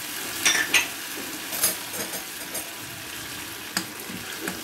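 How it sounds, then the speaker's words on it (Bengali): Carrot paste and onion-garlic paste fry in a pan under a steady hiss, with a spoon stirring and scraping the pan in quick bursts of clatter, close by. "নাড়াচাড়া দিয়ে মিশিয়ে নিচ্ছি"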